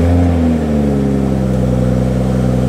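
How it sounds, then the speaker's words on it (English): A Toyota GR Supra engine runs loud and close, a thick low drone that settles from an initial rev into a steady idle, with no voices. "let's hop inside the Supra and let's see if we hear any vibration when I first turn"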